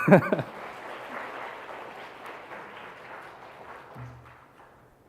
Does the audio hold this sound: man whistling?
no